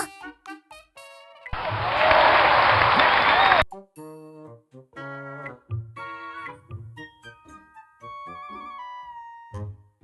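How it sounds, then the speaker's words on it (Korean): Applause in the game Trickcal Revive, a burst of clapping lasting about two seconds near the start, set among game music and sound effects. "다들 박수 부탁드려요."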